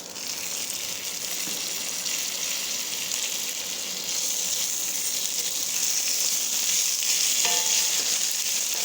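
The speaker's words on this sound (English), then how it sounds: "We have to fry a little so that the raw smell of this Punarnava leaf will go away and the leaf will start to roll" Punarnava leaves with red chili frying in a pan, a loud continuous sizzle heard up close that grows a bit stronger partway through, with a faint stir or clink near the end.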